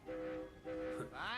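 A cartoon steam train gives short, bright whistle blasts in two bursts, followed by a rising whistle sweep, fairly faint and heard alone.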